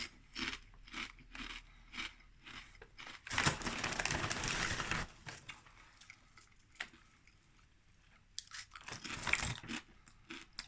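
Crisp, close crunching of Two Farmers Hereford Bullshot bubbly crisps, a run of sharp bites and chews with a dense burst of crackling in the middle and more crunches near the end.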